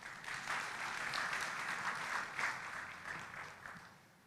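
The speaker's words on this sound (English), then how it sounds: "let's give him a round of applause" Sustained audience applause fills a conference hall at a business forum in Nairobi, a steady broad wash of many hands clapping at moderate volume that gradually tapers toward the end, with no talk over it.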